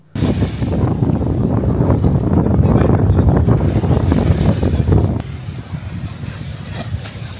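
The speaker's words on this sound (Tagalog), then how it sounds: "Dilatnan ng CSN ang nagangalit na alon mula sa karagatan na sinabayan pa ng malakas na hangin." Strong wind buffets the microphone as rough sea waves surge at Pasacao Port, a loud, gusty roar that drops to a quieter rumble of water near the end.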